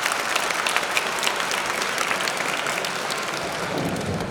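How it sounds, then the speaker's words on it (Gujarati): A crowd at a January 26, 2017 gathering breaks into sustained, thick applause, many hands clapping at once in an even, close wash that barely fades over several seconds. "એકવાર જોરદાર તાળીઓ જાય"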